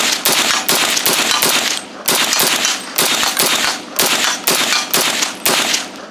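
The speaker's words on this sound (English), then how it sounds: "Let's shoot more. Let's rapid fire." A World War II surplus Saginaw M1 Carbine fired rapidly outdoors, loud sharp gunshots coming in quick repeated clusters with brief gaps between them.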